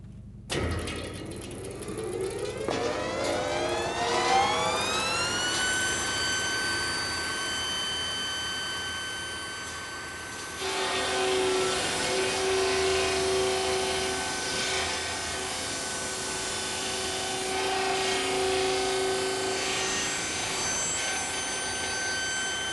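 Circular rip saw cutting through timber: a loud steady whine rises in pitch as the blade spins up, then holds a sustained harsh buzzing drone with a shift in tone midway as the wood is fed through.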